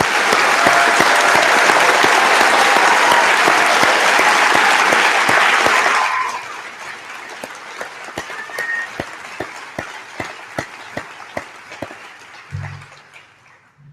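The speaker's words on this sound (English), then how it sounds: "Let's have another round of applause." Audience at a university graduation convocation bursts into loud, dense applause for six seconds, then it cuts off sharply, leaving scattered single claps and faint hall noise.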